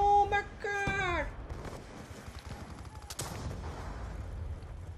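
Rapid machine-gun fire rattles in a Black Ops 2 online match, a sustained burst after a short, excited vocal exclamation, with game effects continuing beneath.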